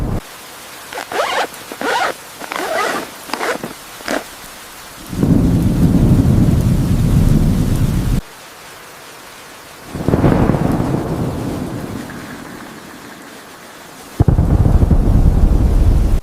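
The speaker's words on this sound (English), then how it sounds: "This isn't just a heavy rain, it's intensifying rapidly." Heavy rain and thunder around a rooftop tent during an intensifying storm, with rapid crackling bursts giving way to loud, rolling rumbles and sheets of rain drumming on the tent fabric, close and alone, without talking.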